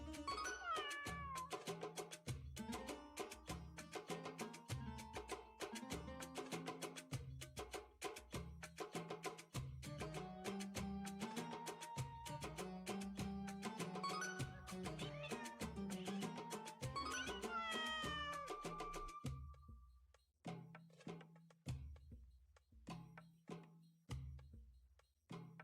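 Cats in the video game Hidden Cats in Istanbul meow again and again over a steady musical backdrop, loud and continuous, thinning to scattered sounds near the end with no talk.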